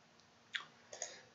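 A computer mouse gives a few quick, faint clicks, one single and then a close pair, in a quiet room.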